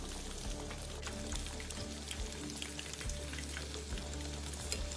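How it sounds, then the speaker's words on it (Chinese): Pieces of pork belly deep fry in hot oil, giving a steady, dense sizzle and crackle with small popping bursts, close and constant with no talking. "整个完整油炸过程约10分钟左右，煎中必须不停将肉块翻面"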